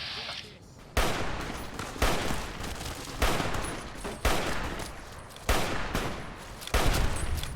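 Rifle gunfire in Fallout New Vegas: six loud, sharp shots spaced roughly a second apart, each with a long ringing tail that fills the gap before the next shot.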